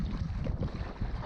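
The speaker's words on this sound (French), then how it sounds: "Puis là, il y a quand même beaucoup de vent." Strong wind of roughly 35 to 65 km/h gusts past a lake shore, a dense low rumbling buffet pressing on the microphone continuously for just over a second, with no voices.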